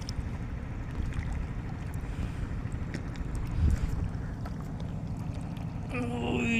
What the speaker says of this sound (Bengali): ওই যে নৌকা যাচ্ছে,